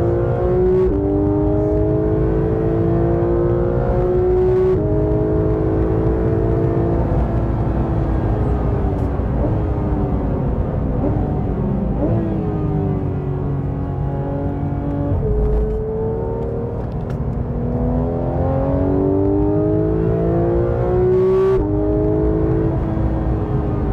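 A naturally aspirated Porsche GT3 RS engine pulls hard on a circuit, its loud, close in-car roar climbing through rising revs in repeated sweeps with brief drops between gear shifts.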